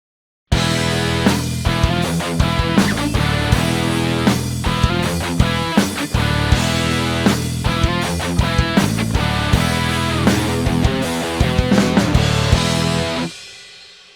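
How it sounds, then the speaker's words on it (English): A basic guitar mix plays with drums and bass guitar, a full band passage of strummed chords over steady beats and bass that runs loud and even before cutting off at the end. "here's a basic mix of that along with drums and bass guitar."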